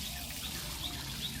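A newly potted gardenia being watered, with a soft, steady trickle of water close by and faint bird chirps in the background.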